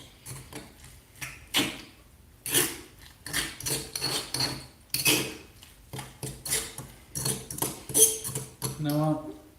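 Metal utensils scrape and clink in a bowl as cilantro is mixed into nacho food, with irregular stirring strokes and taps, close and fairly quiet.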